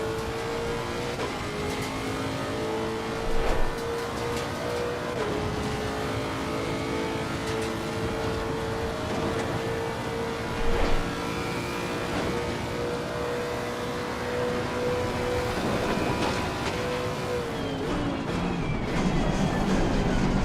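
Race car engine at Bathurst in Assetto Corsa Competizione, revving loud and continuous through gear changes with brief tire-squeal bursts, steady and close throughout without talk.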